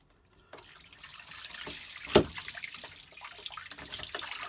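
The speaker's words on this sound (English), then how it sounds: "As we loosen that off, it will drive this up and we'll start to get water ingress." Water trickling and splashing into a yacht hull through the open speed sensor hole as the fitting is loosened, a faint steady dribble with a sharper splash near the middle and continuing liquid noise afterward.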